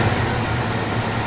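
A 1967 Chevrolet Chevelle SS engine idles steadily up close, a continuous low rumble with an even, unbroken tone and no voices over it.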